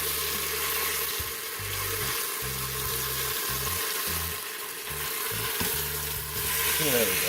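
Jerk chicken pieces sear on an Instant Pot's saute setting with a steady, close sizzle and some soft clatter. A voice speaks briefly over the frying.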